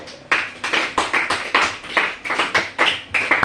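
A church congregation at a worship service claps to acclaim Jesus, with steady rhythmic claps about three per second, close and even throughout.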